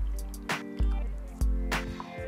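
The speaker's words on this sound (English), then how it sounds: "You'll want to preheat your matcha bowl by filling it about 1/3 full of hot water." Hot water is poured into a matcha bowl with a few wet, splashing pulses. A liquid slosh returns about every half second, close and fairly loud, and there is no talk.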